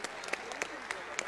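Audience applause at a Georgian basketball all-star game, a thin scattering of claps in an arena heard faintly under a commentator's voice.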